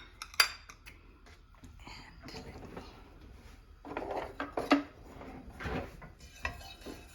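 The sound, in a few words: stirring cumin seeds in oil in a pan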